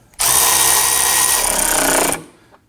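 A power tool snugs down a sway bar link bolt on a 2015-2024 Nissan Murano, one steady loud whirring burst of about two seconds that cuts off cleanly, with no talking.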